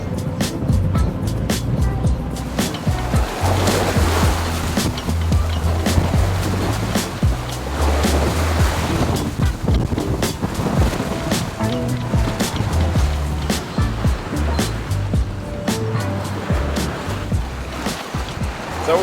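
Waves wash and slap against a sailing yacht beating upwind in the open channel between Antigua and Guadeloupe, a steady, uneven surge of water and wind noise that runs throughout.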